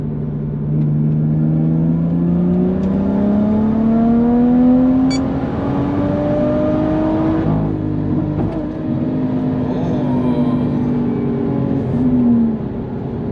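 A big-turbo BMW 440i accelerating hard from inside the car, its engine drone climbing steadily in pitch, then briefly breaking up as fuel is cut for a no-lift shift, before pulling again with a continuous loud whine.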